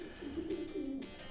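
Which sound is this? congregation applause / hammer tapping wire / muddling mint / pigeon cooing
pigeon cooing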